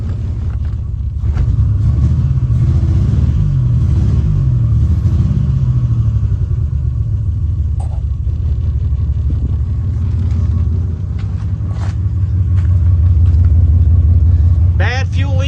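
An abandoned 1986 Nissan Maxima wagon with a cut exhaust and a bad fuel leak idles loud and close, a rough continuous rumble with slight surges and a rev near the end, while a person talks over it.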